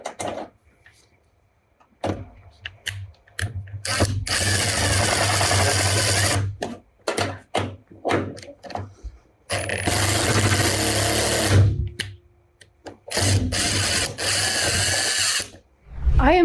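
A power drill tightens a part of a van bed in several loud bursts of whirring, separated by short pauses and clunks, close up.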